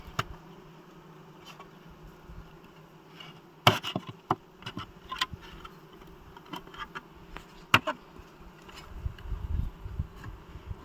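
Honey bees buzz around hive frames at an abandoned apiary. The drone is steady and close, with insects passing near and occasional sharp knocks and clacks as the wooden frames are handled.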